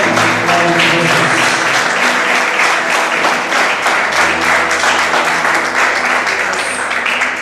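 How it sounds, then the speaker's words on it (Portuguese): A church congregation at a Foursquare Gospel service claps loudly and steadily in praise, with sustained dense applause filling the room and a faint voice beneath. "Aplauda o Senhor, porque Ele merece toda a honra"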